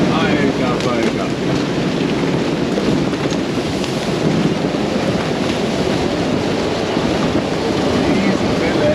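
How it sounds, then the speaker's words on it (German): Storm wind of around 55 knots roars over a sailing yacht at sea in the South Pacific, a loud, steady rushing and buffeting with water noise and wind hitting the microphone throughout, no clear voice. "Das sind bestimmt schon wieder 55 Knoten Wind."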